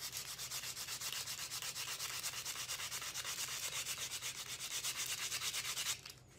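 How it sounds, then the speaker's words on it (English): Hand sanding of a wooden wand blade makes a rapid, rhythmic rasping scrape, close and steady for six seconds before stopping abruptly. "a good sanding."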